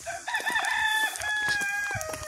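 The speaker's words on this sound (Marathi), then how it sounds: "कसं गावच्या पद्धतीनं कोंबडा पण ओरडतोय" A village rooster crows once in a long, rising then sustained cock-a-doodle-doo, loud and close, with a few faint clucks and bird sounds around it.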